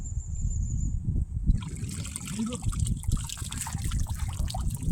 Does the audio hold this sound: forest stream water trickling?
yes